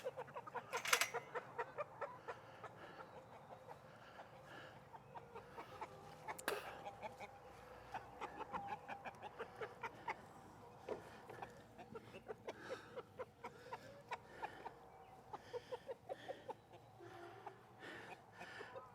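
Backyard flock of hens clucking and murmuring at a moderate distance, with scattered short calls and one louder squawk near the start and another around six seconds, over faint outdoor background noise.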